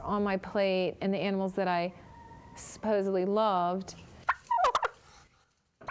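Turkeys gobble in a series of loud, close, harmonic bursts, three quick calls and then a longer one, with a short pause between them and a few scratchy clicks and rustles near the end.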